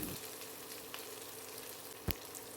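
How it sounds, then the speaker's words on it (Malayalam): Chopped ingredients fry in hot oil reused from frying anchovies for a masala fry, giving a faint, steady sizzle with one sharp clatter near the end. "ഇനി അതേ എണ്ണയിൽ തന്നെ ചൂടോടെ ബാക്കി അരിഞ്ഞു വെച്ചിരിക്കുന്ന ഐറ്റങ്ങളും കൂടി വറുത്ത് കോരാം"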